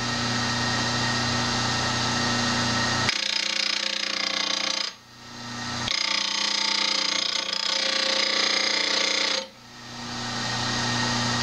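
A bench grinding wheel sharpening a woodturning tool, with a steady motor whine and a harsher grinding rasp each time the steel is pressed to the wheel, in two close, loud passes.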